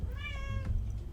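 A cat gives a single clear meow close to the microphone, a short rising and falling call over a low steady background hum, with no one talking.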